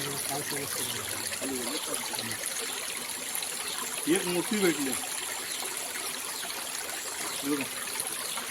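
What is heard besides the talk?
mountain stream water flowing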